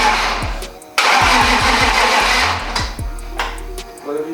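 BMW E36 race car engine cranking in repeated short bursts, a rapid rhythmic starter churn that catches briefly with a loud burst of rumble, then sputters and turns over again, close and loud in a workshop.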